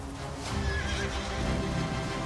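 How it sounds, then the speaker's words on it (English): A horse whinnies loudly, close up, with clip-clop hooves and a busy film-soundtrack bed underneath, heard in a trailer clip. "A little horse."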